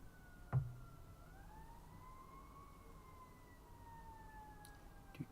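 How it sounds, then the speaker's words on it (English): Fire engine and police sirens from a 1940 animated cartoon short, a wailing tone rising and sliding together in two layers, steady and moderately loud, opened and closed by sharp thumps. "it's a fire engine and a police"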